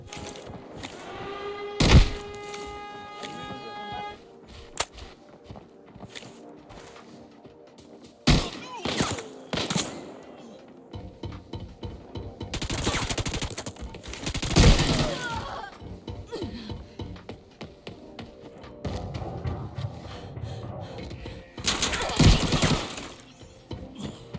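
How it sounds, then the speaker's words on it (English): An AN94 assault rifle fires two-round bursts in the video game Arena Breakout, sharp loud cracks repeated in bursts across the span, mixed with clattering mechanical sounds and other game noise. "its own signature firing pattern, the 2-bullet burst"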